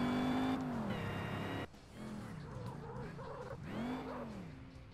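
A video game early-2000s Chevrolet Monte Carlo SS spins its front tires, the engine revving hard with a rising whine, then dropping to a lower growl before surging again, loud and continuous.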